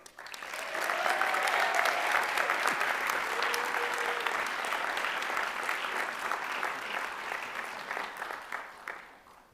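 Sustained audience applause at a university honors convocation, rising quickly to a full, even wash of clapping that holds steady and then tapers off in a few last claps.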